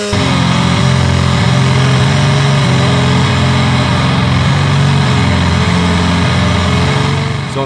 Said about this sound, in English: checking out the brand new Does It Doom Doomsaw single knob chainsaw distortion